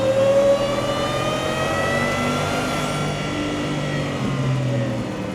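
A 2023 Ford F-150 Shelby pickup's engine revs on the throttle, its pitch climbing and easing in a long, loud continuous pull with no talk over it.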